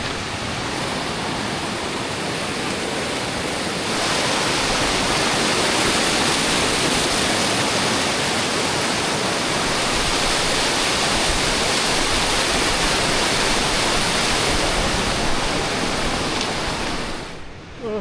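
An alpine river rushes near a glacier with a dense, continuous roar of white water, loud and close, swelling slightly after a few seconds and holding steady throughout.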